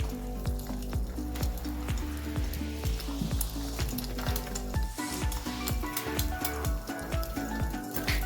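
Egg half-frying in a pan, with steady close sizzling and crackling oil and occasional clicks, continuous with no talk.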